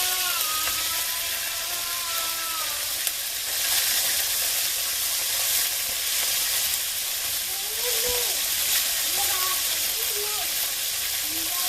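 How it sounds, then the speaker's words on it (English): Steady, loud sizzling of chicken pieces searing in hot oil for Filipino chicken adobo, continuous throughout, with faint voices in the background. "start searing off the chicken pieces. You hear that sizzle?"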